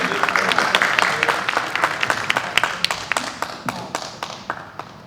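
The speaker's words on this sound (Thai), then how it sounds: "ผมขอ เสียงปรบมือให้กับผู้กำกับของเราในวันนี้" Audience clapping for a film director at a Pattaya Film Festival masterclass, a dense round of applause with sharp individual claps standing out, gradually thinning and fading toward the end.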